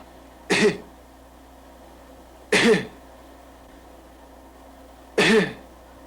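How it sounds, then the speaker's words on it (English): Three separate coughs, close and loud, spaced evenly about two seconds apart with quiet between them. "Now give me a big cough"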